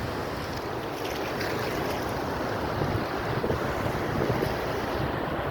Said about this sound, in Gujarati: જોવો આ પાણી,